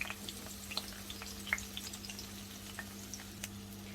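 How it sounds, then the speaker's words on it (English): Chicken kebabs shallow-fry in a pan, giving a quiet, steady sizzle with sparse small pops and crackles over a low constant hum. "So shallow fry them, and after like 3-4 minutes turn them over so the other side gets fried as well."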